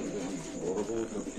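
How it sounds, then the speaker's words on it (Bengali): Pair of racer pigeons in a cage at a bird market, soft throaty cooing rising and falling through the short stretch, fairly close and moderately loud over a busy background murmur. "44 নম্বর খাঁচা একজোড়া রেসার কবুতর আছে"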